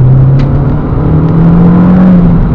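A 2005 Renault Clio 2.0 Renaultsport 182 Trophy pulls hard out of a corner, its engine note rising steadily as it accelerates, loud and continuous from inside the car with no talking.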